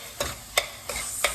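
Potatoes and spices stir-fried in a pan for dum aloo, with four short scraping, rustling stirs over a low, steady sizzle, close and fairly quiet.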